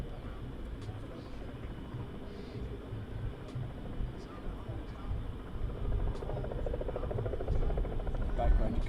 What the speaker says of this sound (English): you can hear little Robinson helicopter there